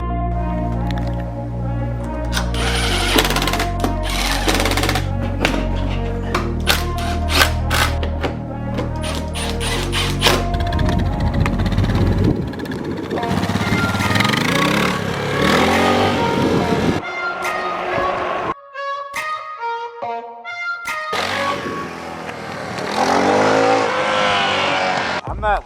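A Suzuki DR650 dual-sport motorcycle with carburetor modifications runs at full throttle, its engine loud and close and rising in pitch through repeated surges, with a short drop-off partway through before it pulls hard again.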